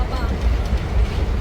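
A train runs along the rails, heard from inside a passenger carriage as a steady low rumble and rolling drone, close and continuous.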